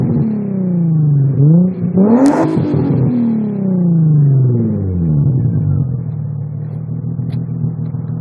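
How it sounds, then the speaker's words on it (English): Infiniti G35 with an Injen intake and new aftermarket exhaust starts up and revs: a loud, steady idle rumble rises into a sharp rev near the start, then a longer swelling rev that falls back to a throaty idle. "give you guys a little bit of a startup and an exhaust rev. Since we got the new exhaust on here"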